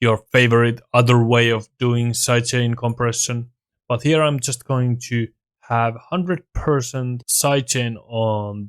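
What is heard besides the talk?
No everyday noise stands out behind the speech.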